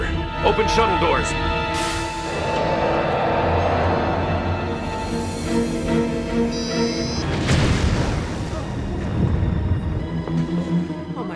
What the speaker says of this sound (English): We've had an explosion in the core shuttle.